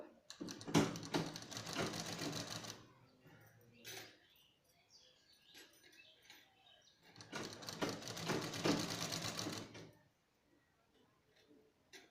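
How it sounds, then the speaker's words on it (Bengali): Two separate runs of a sewing machine stitching the border of a tie-string frock, each a few seconds of dense mechanical rattling, with quiet handling noise in between. "এভাবে বসিয়ে বর্ডারে বর্ডারে বসিয়ে সেলাই করব"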